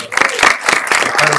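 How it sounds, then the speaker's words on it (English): Brief burst of audience applause for a film panel at a short film live event, close, dense clapping that swells and dips over a second and a half. "let's give a round of applause again to these guys"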